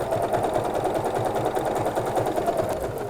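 Sewing machine stitching fabric, a fast, even, rhythmic mechanical chatter that runs loud and unbroken.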